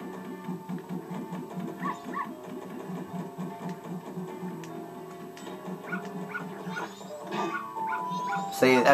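Game dog from The Legend of Zelda: Majora's Mask whimpering and yipping in short repeated bursts over steady background game music, with a louder sound near the end.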